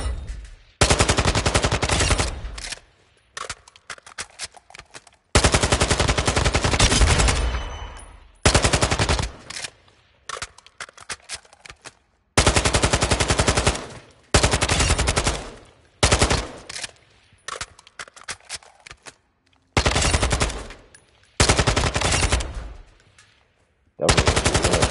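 Bursts of automatic gunfire in Call of Duty Warzone 2, loud sustained volleys broken by short pauses and some scattered single shots, repeating throughout with no speech.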